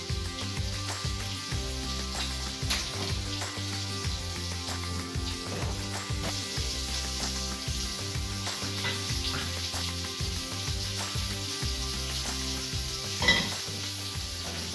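Pork chops fry in a pan with a steady, close sizzle that runs throughout, under a constant layer of background music with occasional clinks of kitchen utensils.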